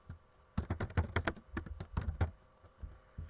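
A patient's name being entered on a computer keyboard, with rapid clustered key taps in two bursts, close and fairly quiet, with no talking.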